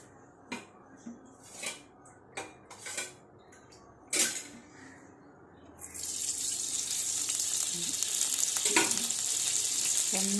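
A kitchen tap opens and water runs steadily into a vessel while a jackfruit-seed curry is being cooked, preceded by several short clinks and knocks of utensils; the flow starts about midway and continues loudly to the end.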